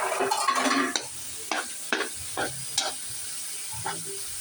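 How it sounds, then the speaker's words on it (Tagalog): Garlic, onion and ground pork for spaghetti sauce fry in a pan, a close sizzle broken by a series of sharp spatula scrapes and clatters at irregular intervals. "Tangkotsa na natin ang ating bawang at sibuyas."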